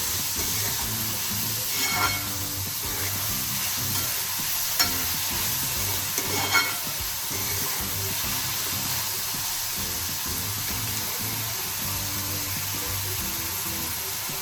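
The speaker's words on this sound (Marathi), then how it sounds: "मीठ टाकून झाल्यावर त्याला व्यवस्थित परतून घ्यायचं आहे" Onion with salt sautés in a pan for a boiled-egg masala, with a soft continuous sizzle and hiss and a few brief scrapes of a spatula, moderately quiet and steady.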